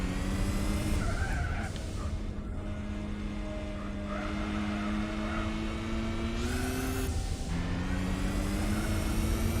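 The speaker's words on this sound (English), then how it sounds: "You can actually hear now it's spinning up the tyres." Tyres spinning up and squealing on a car in Gran Turismo 4, a long sustained screech over engine whine with two sharp upward shifts in pitch as the throttle comes on again.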